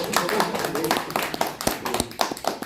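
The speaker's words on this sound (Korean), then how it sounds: "다시 한번 어게인 김경호 대표님께 박수 부탁드리겠습니다." Audience applause at a poetry recital concert, a moderate patter of clapping hands that fades and swells across the moment, with a voice talking over it.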